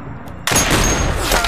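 In the Metal Gear Solid digital graphic novel, a single loud gunshot cracks out abruptly after a quiet moment, followed by a sustained ringing, booming tail.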